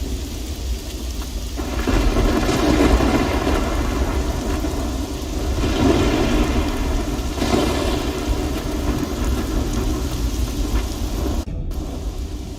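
Thunderstorm in the video game Risen II: Dark Waters: steady heavy rain hiss under repeated low thunder rumbles that swell and fade in slow waves, loud and continuous throughout.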